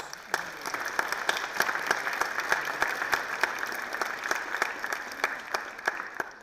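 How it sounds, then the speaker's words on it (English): Audience applause at an annual ethnic, gender, transborder studies and sociology summit, a steady dense clapping from a fairly small crowd, sustained evenly for several seconds with no voices over it. "Let's give them a round of applause."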